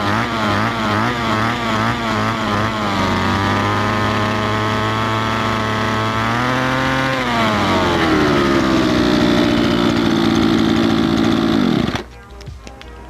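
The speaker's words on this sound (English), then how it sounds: "There we go, the John Deere is started." A John Deere tractor engine runs loud and close, its steady chugging note shifting in pitch as the revs rise and settle before the engine cuts off abruptly near the end.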